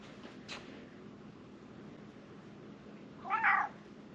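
A domestic cat in a workshop lets out one clear, close meow near the end, after a faint short sound early on, over a quiet background hum.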